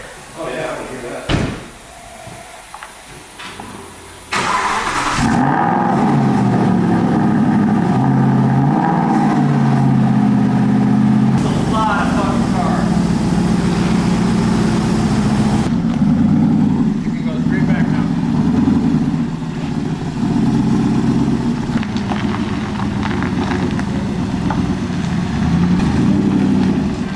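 A 1977 Ford Highboy pickup with a built 460 V8 fires up after a brief crank and settles into a loud, steady, rumbling idle that fills the rest of the clip close to the listener.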